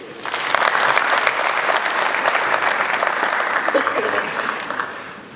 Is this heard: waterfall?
no